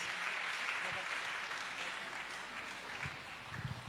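Church congregation clapping during a worship service, a sustained wash of applause at moderate distance, with faint voices mixed in beneath it.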